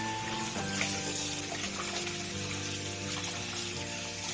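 A pot of water with washed pork shank bones and soup ingredients comes to a boil, a dense, steady bubbling hiss that stays loud and even throughout with no voices.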